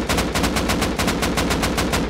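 Rapid automatic gunfire from a rifle in the survival game Rust, a loud, steady stream of roughly ten evenly spaced shots per two seconds with no pauses and no voices.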